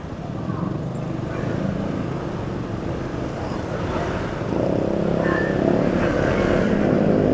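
A loud Honda ADV160 scooter engine drones steadily up close while riding along a trafficked highway, growing slightly louder in the second half, with a voice talking over it.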